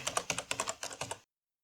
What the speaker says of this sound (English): Type something, lorem ipsum something.